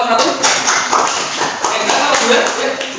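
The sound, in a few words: applause for group 1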